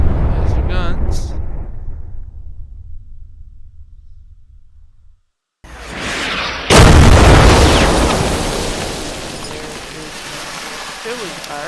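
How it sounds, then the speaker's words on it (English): Artillery fire in the shooter The First Descendant: a heavy rumbling blast fades away, a brief silence follows, then a second big explosion hits hard and leaves a long noisy roar and debris wash, loud and close. "There is artillery fire."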